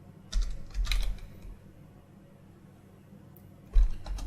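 Someone types on a computer keyboard in quiet, brief clusters of soft clicks separated by pauses, with no talking.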